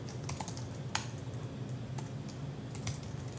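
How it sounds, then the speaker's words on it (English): Typing on a computer keyboard while entering search terms for a PubMed subscription, a steady patter of quick, close key clicks with a few sharper strokes, alone with no voices. "So I'll just type in here"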